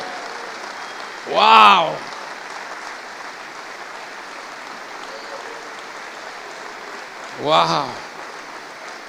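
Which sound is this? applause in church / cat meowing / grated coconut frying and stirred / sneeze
applause in church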